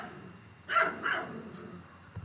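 Several dogs bark a few times at a distance, their sharp barks rising over a steady background hum. No one speaks.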